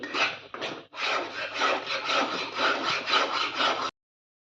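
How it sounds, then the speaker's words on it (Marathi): A thickening milk and dry fruit peda mixture is stirred in a pan over a low flame, giving a close, continuous scraping and rasping with brief breaks, then a sudden stop. "आपल्याला हे असं हलवतच राहायचं आहे आपल्याला हे सोडून नाही द्यायचं आहे बिलकुल हलवतच राहायचं आहे घट्ट होईपर्यंत"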